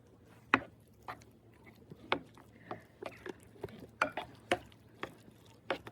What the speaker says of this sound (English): Right, add that to the guacamole.